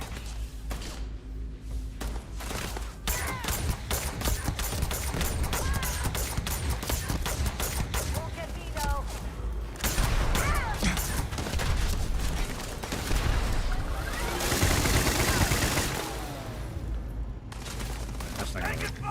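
Starfield combat crackles with rapid gunfire bursts and heavy explosion booms, dense and loud throughout, as someone talks excitedly over the chaos and a grenade launcher pounds away.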